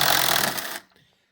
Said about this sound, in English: So you're just going to get your ratchet and get these guys out.